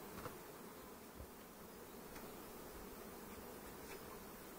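A thick, unbroken drone of honey bees surrounds an opened hive body, with occasional single bees zipping close past amid the steady swarm hum.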